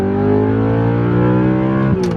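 Audi R8 engine, rebuilt from a salvage auction car, heard from inside the cabin as it revs hard toward redline, a loud, sustained, steadily climbing roar with dense harmonics and a brief dip near the end.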